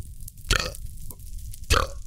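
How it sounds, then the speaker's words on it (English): A person lets out two short, close burps about a second apart, each a brief guttural croak, the second slightly louder, with quiet room tone between them and no talking. "I've got a burp."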